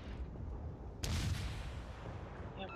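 Naval gunfire in World of Warships opens with a single sharp, loud boom that rings out and decays over a low, steady rumble, while shells land around the escorted Transylvania.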